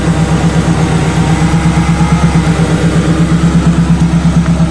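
A Subaru engine idles after a cold start on old gas, with a loud, close, steady rumble and a fast, even pulsing throb that runs throughout.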